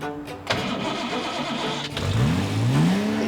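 A classic car engine cranks and catches with a sharp start, then idles roughly and revs twice in rising sweeps, loud and close, with no talk over it.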